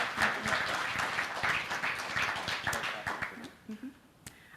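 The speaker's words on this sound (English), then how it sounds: "another round of applause for all of our awardees" An audience at an award ceremony and gala claps for the awardees, a dense round of applause that thins into a few scattered claps before dying out.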